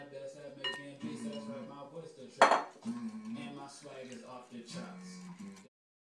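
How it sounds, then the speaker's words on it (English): Egg mixture is stirred into a yeast mixture in a bowl for beavertail dough, with clinks and scrapes of utensil against the dish. A louder clatter comes midway, and a voice talks over much of it. "Now you have to add the egg mixture to the original yeast mixture. And mix thoroughly."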